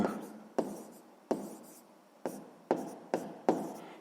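A pen writes out a sixth-grade math solution by hand, making a series of close scratchy strokes. Each stroke starts sharply and fades, repeating in an uneven rhythm.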